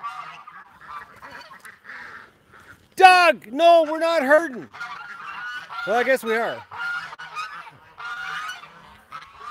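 Ducks or geese honk and call loudly in repeated harmonic bursts as a dog named Doug chases them, with someone talking over the calls.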